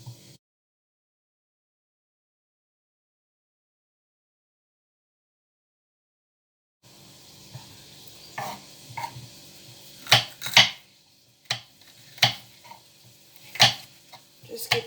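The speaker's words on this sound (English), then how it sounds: "And then of course you'll be cutting your green pepper" Sharp knife chopping green pepper into small cubes on a board, a run of distinct crisp cuts coming close and fairly loud after a long stretch of silence, the strokes spaced irregularly.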